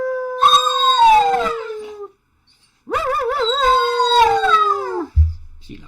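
A dog howls twice indoors, two long drawn-out wavering howls separated by a short pause, loud and close, with no speech over them.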